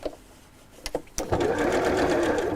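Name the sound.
sewing machine stitching around a drawn line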